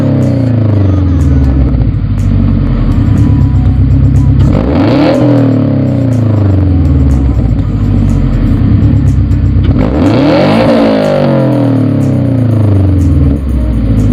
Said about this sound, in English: I hope you guys like the way the exhaust sounds